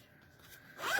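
Nylon coil zipper on a fabric pocket being pulled open from edge to edge, one quick close zip that rises in loudness toward the end.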